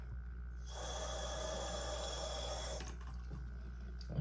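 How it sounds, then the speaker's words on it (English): Water pours into a small planted aquarium tank holding gravel and pet-store plants, a steady splashing trickle for about two seconds that then stops, leaving quiet room noise. "let's add a little bit of water in here"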